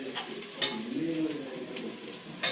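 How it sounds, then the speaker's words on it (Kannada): Fish tawa fry sizzles on a hot griddle in a steady low crackle, with a couple of brief sharp utensil scrapes. "ನಾನು ಟವಾ ಫ್ರೈ ಮಾಡ್ತಾ ಇದ್ದೀನಿ."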